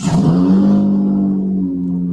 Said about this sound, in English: It's my car starting up